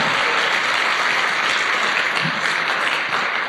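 An audience at a motivational seminar applauds a speaker, a dense, sustained wash of clapping from many hands at an even level throughout.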